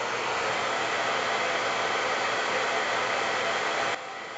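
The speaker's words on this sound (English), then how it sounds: "and I have my hair dryer." A hair dryer blows a steady, loud whooshing roar, then drops abruptly to a lower setting near the end.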